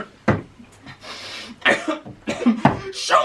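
A sharp cough bursts out as someone chokes on a chunk of Swiss cheese, followed by several rough, choking coughs and gasps in uneven bursts, close and fairly loud.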